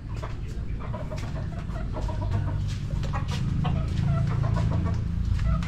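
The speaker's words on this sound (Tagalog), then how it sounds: "dami ring ano, manok si Ate Mariet." Chickens cluck and chatter steadily over a continuous low background rumble, several birds calling at once with no voices.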